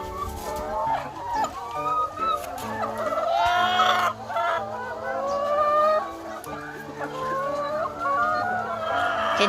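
Laying hens kept for eggs cluck and squawk continuously at close range, a dense chorus of overlapping calls with a louder rising cackle near the middle.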